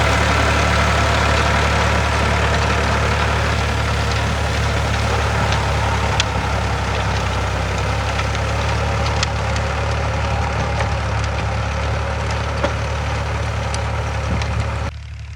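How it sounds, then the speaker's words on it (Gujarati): A large tractor running a cutter in a farm field gives a steady, close, low engine drone that holds evenly from start to finish with no breaks. "મોટું ટ્રેક્ટરને બોલાવી લીધું અત્યારે તો કટર લાગે છે"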